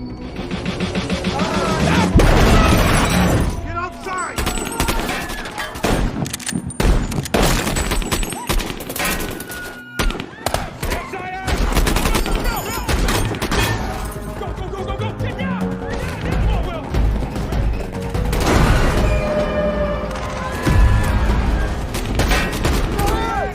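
Gunfire in a film shootout between a soldier and a SWAT team, with dense, loud volleys of rapid shots and booming impacts that continue almost without a break from start to finish.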